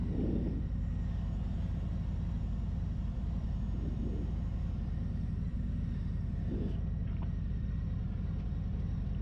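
A 2021 Harley-Davidson Tri Glide Ultra trike idles with a steady, close low rumble while being backed up in reverse, with a few soft mechanical clunks along the way and no talking.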